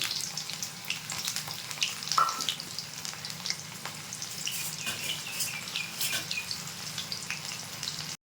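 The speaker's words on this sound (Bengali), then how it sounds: "তেলটা গরম হয়ে গেছে, পেঁয়াজটা দিয়ে দিচ্ছি।" Two onions dropped into hot mustard oil in a wok give a continuous moderate sizzle with faint crackles and occasional light stirring scrapes, close and steady, with no voices.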